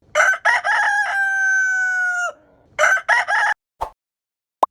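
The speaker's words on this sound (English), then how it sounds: "It's rooster." A rooster crows once in a long held cock-a-doodle-doo, bracketed by bursts of clucking and squawking before and after, fairly loud and close, followed by a couple of sharp clicks.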